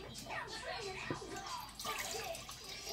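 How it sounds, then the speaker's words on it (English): Ice water being poured into Guyanese-style pastry dough, a faint, soft trickle and splash of liquid with a few light drips, quiet and close. "I'm gonna start by adding some cold ice water"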